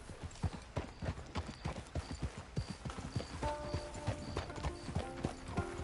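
Horse hooves in Red Dead Redemption Online, a rapid close clip-clop of a ridden horse with steady rhythmic beats and faint mechanical tones creeping in toward the end.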